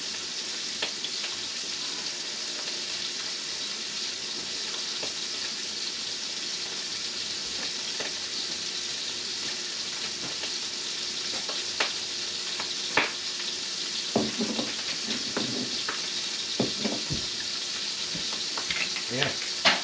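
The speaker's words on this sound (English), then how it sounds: "I'm gonna continue to cook up the meat and add in the sauce" Sausages frying and being stirred in a pan for honey glazed sausages, a steady close sizzle with scattered scraping and clicking stir sounds, no talking.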